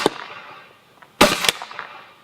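A single sharp shot from a Palmer's Pursuit Shop Tornado semi-automatic gun with a Lapco barrel, a crisp loud crack followed by a brief second report and fading echo outdoors.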